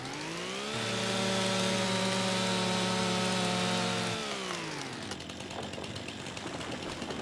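Chainsaw from Farming Simulator 25 felling a tree: a loud, steady motor drone holds for several seconds, its pitch shifting slightly, then drops away into rough, crackling noise as the tree goes down.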